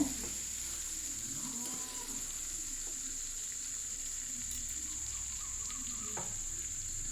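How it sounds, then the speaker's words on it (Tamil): Mutton pieces sautéed with onion in a pan for mutton chukka, with a continuous, even sizzle and occasional stirring scrapes close by and no talking. "ஒரு டூ மினிட்ஸ் நல்லா வதக்கி விடுங்க மட்டன் பீஸோட"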